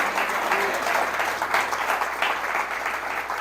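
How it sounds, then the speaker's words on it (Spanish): A church congregation claps for Jesus during an evening sermon, dense sustained applause with a faint voice briefly audible near the start. "Le da un aplauso a Jesús en esta noche."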